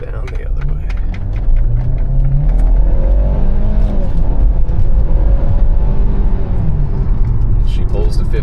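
A car accelerates hard along a road, its engine note rising steadily beneath constant road and wind noise, heard from inside the cabin while someone talks over it.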